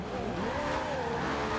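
Racing car engine in the video game Forza Horizon 2, a loud continuous high-revving whine rising and easing in pitch with tire noise, close and sustained without talk.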